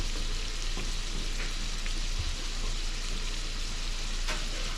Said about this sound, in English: Just need to go into that pan with the butter.